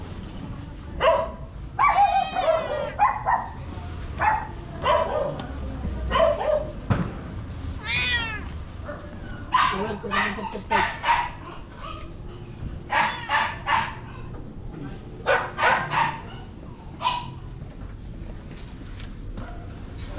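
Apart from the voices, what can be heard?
dogs barking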